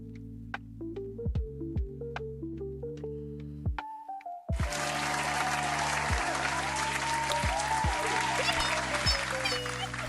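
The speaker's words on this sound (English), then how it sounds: "Can we get claps for Mo, please?" About four seconds of sparse, plucked melodic notes give way to a sudden burst of dense, steady applause and clapping that fills the rest, cheering on Mo during a chill book club stream.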